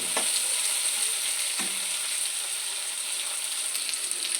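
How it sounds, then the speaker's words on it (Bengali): Chopped vegetables with onion and potato frying in a pan, giving a constant bright sizzle close up with a couple of soft stirring knocks, no talking. "সব কিছু আবারও ভালো করে ভেজে নেবে"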